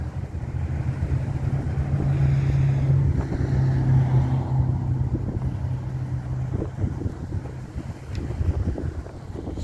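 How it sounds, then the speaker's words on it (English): Strong wind buffets the microphone outdoors on a street, a constant low roaring rumble that swells and dips throughout with no talking. "I hope this wind ain't messing up my video"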